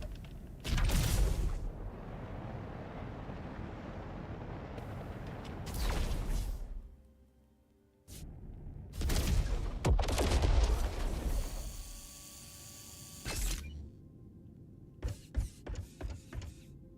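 A fragment cannon fires in the spaceship video game Jump Ship, giving several heavy booming blasts with noisy tails, followed by a quicker run of sharp cracks near the end, loud and with no talk.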